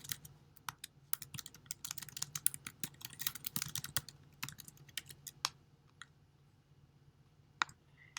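Quiet computer keyboard typing in irregular bursts of crisp key clicks, close but faint, with a few pauses and scattered isolated taps toward the end.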